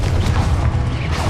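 A Confringo fire spell blast in Hogwarts Legacy: a loud, deep, rumbling explosion with heavy low-end boom that fills the moment without pause.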